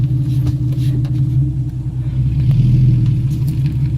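A Ford AU Falcon's engine rumbles steadily from inside the car as it drives, a loud, constant low drone with slight swells and no voices.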